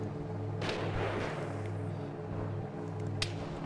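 Two sharp sniper rifle cracks ring out at a distance in Arma 3 with the Iron Front WWII mod, one early and one near the end, over a steady low rumble of ambient battlefield noise.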